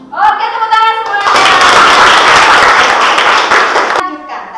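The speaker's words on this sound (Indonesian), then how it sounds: "Oke, tepuk tangan semuanya." A classroom of students claps together in a mathematics lesson, a loud, dense burst of many hands lasting about three seconds, with a teacher's voice just before and after.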